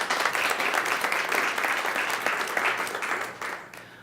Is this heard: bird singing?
no